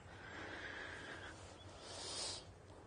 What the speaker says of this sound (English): Oh, we just had a horse.